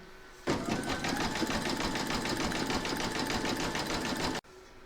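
A sewing machine satin-stitches around a large Santa appliqué, running in one fast, even burst of rapid stitching for about four seconds before stopping abruptly, close and alone.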